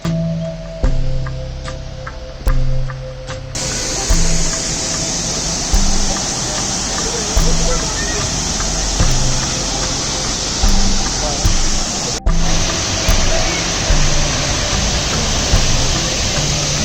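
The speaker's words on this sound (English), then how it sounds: "Right, here we are at waterfall number 4." Waterfall on the Four Waterfalls Walk in the Brecon Beacons, a loud steady roar of rushing water filling the scene, with a voice speaking briefly under it.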